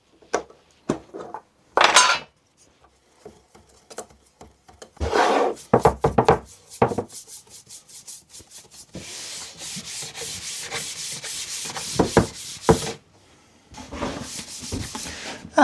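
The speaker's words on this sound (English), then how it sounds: "get some clear wax on to seal it up and just make it slide a bit" Clear wax being rubbed onto a wooden panel sled, a brisk close scraping and rubbing that comes in irregular bursts, continuous through the middle and again near the end, with no talk.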